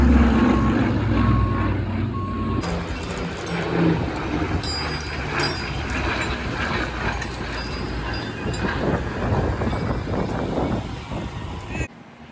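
Big truck at a country fair, with repeated reversing beeps sounding through rumbling engine and wind noise outdoors, while people talk nearby.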